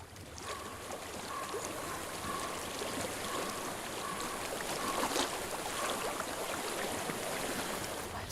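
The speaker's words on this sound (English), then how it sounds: "I hear water." Steady, unbroken rush of a flowing stream in Hellblade: Senua's Sacrifice, a broad hiss that holds even throughout, faint and without voices.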